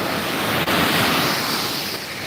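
Surf rolling in at Gandhi Beach, Pondicherry, a continuous dense roar of waves close by, with wind buffeting the microphone and no voices.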